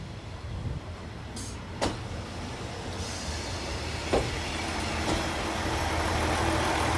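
A train on the Wensleydale heritage railway, heard as a steady, gradually building rumble of rolling wheels with a few sharp clanks and squeaks, close by.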